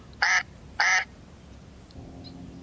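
A duck gives two loud, close quacks about half a second apart, followed by quiet background.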